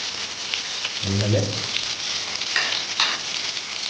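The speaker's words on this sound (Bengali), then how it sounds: "একটু ভেজে নেবো বেশি ভাজবো না বেগুনটা অল্প করে একটু ভেজে নেবো" Eggplant and green chili fry in hot oil, a continuous close sizzle with occasional crackles; a voice speaks briefly over the frying.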